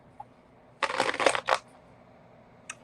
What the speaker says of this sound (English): Wow, that was a terrible shuffle.